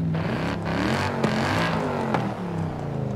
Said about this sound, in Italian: Motore BMW.